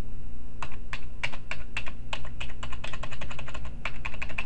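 Keys on a computer keyboard are pressed in a rapid, uneven run of sharp clicks, close and loud against a steady low hum, with no talking.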